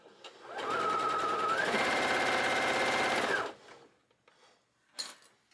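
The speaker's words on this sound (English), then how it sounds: "you're good to start sewing along the straight edge again" A sewing machine stitches a straight seam along the edge of fabric for a bow garland, a rapid, even mechanical whir that runs for about three seconds, then stops, followed by faint handling clicks.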